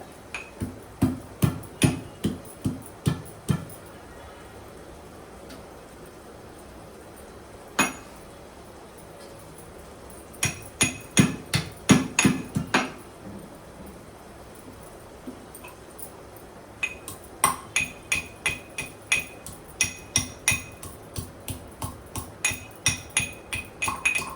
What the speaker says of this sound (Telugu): ఒక చిన్న ఇంత అల్లం ముక్క, ఒక పచ్చిమిరపకాయ మాత్రం దంచి ఈ మజ్జిగలో కలపాలన్నమాట.